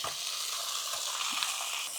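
Masala-marinated chicken hits softened onions in a hot pan and is stirred, producing a dense, continuous sizzle with soft scraping underneath for two seconds, close and steady with no talking.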